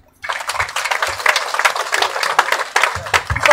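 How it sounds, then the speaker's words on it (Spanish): A crowd applauds the mayor of Chimoré at a municipal event in Bolivia, with dense, steady clapping that starts abruptly and holds for a few seconds, fairly close and loud. "Aplauso para nuestro alcalde del municipio de Chimoré."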